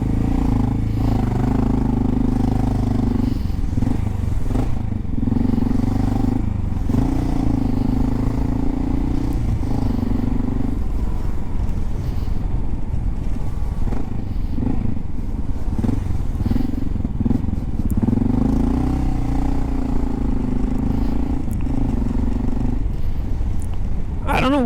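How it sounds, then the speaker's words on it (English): Motorcycles split lanes through traffic on a busy street, their engines buzzing and revving steadily close by for the whole stretch, mixed with surrounding car noise and occasional thumps, while a rider talks over it. "there's motorcycles here all the time splitting through here"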